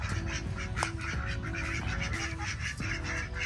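A flock of farm ducks, four males among them, quack in repeated nasal calls at a steady rhythm, close by and clear, with no talking over them.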